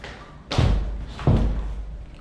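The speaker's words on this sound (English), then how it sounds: "We close the door." A conference room door closing, with two solid thuds about three-quarters of a second apart, close and fairly loud in a quiet room.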